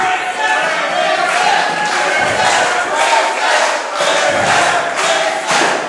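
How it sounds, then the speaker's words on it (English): A large wrestling crowd at a live match cheers and chants loudly and continuously, rising in rhythmic surges to rally a downed wrestler back to his feet, with a few dull thuds in the arena. "Crowd now getting Fitness back to his feet, rallying him."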